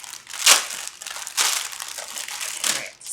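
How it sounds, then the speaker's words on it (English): Thick plastic kit bags holding drills crinkle and crush in three loud bursts spaced about a second apart, close to the mic with no talking. "Sorry for the crinkle alert."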